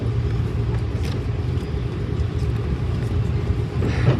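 Steady low engine rumble inside an Airbus A330 airliner landing at Manila international airport, a continuous dense roar at constant level throughout, close and enveloping, with no voices.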